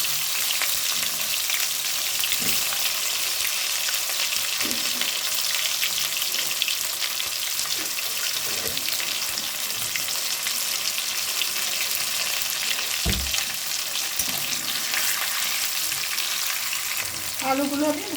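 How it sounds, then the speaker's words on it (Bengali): Boiled potatoes coated in spices frying in hot oil, a loud, dense, continuous sizzle held throughout, with a few faint knocks and a short scrape near the end. "সেদ্ধ করে রাখা মশলা দিয়ে সেদ্ধ করে রাখা এই আলুগুলো এখন আমি দিয়ে দেব এক এক করে তেলেতে।"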